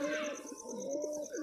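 Baji pigeons coo softly in a low, wavering murmur that runs through the moment, faint and fairly close, with a steady high electronic tone in the background.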